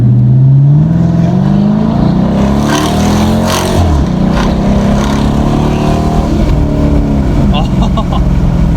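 A Dodge Challenger R/T V8 accelerates in a tunnel, its loud engine note climbing in pitch, breaking off at a shift and then building again, with a booming echo around it.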